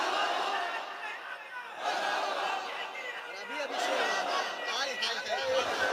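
A crowd at an Eid Milad-un-Nabi gathering chants a religious slogan together, a steady, loud wash of many voices that swells and dips over several seconds.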